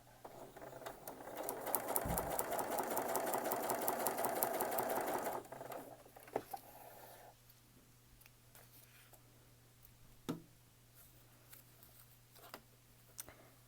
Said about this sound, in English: Gently slide it to the needle thread here, open it up and stitch.